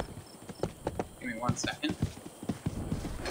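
Horse hooves clip-clop in a steady rhythm in the online fantasy game RIFT as the mount trots along, moderately loud beneath someone speaking briefly over them.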